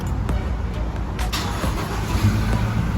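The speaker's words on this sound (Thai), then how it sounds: "เครื่องยนต์ก็จะสตาร์ทติดนะครับ" A Toyota Revo pickup engine starts from a push-button start: a short cranking burst, then a steady idling rumble under a constant background hum.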